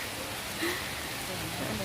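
Rain falls in a steady soft hiss with a few close drop taps, with a faint voice under it.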